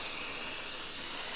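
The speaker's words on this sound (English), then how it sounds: "spray should disperse at a fine glittery mist." Glitter spray mists over a diamond painting as a soft, steady aerosol hiss, fairly quiet and with no voices over it.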